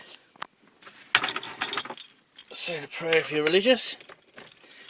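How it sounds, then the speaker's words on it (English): Car keys jangle in a Citroen Xsara Picasso, loud bursts of metallic rattling close by, with someone talking before and between them. "Keys."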